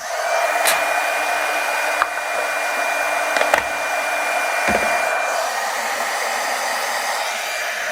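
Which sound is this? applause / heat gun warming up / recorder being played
heat gun warming up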